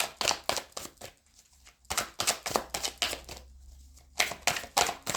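Tarot cards riffled and shuffled in quick bursts of crisp flutters, with short pauses between, close and clear.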